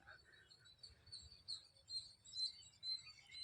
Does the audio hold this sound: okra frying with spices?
no